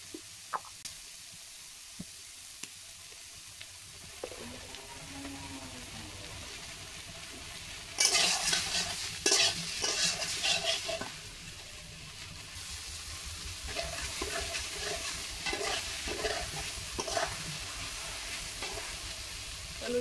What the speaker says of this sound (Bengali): ওলের ডাঁটাগুলো কিন্তু ভালো করে ভাজা হয়ে গেছে।